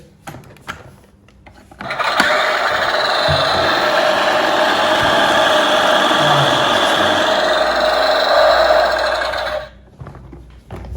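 A Husqvarna toy lawnmower is started by pull cord, and its spinning blade mechanism gives a steady close whirring buzz for about eight seconds, framed by a few clicks and handling knocks.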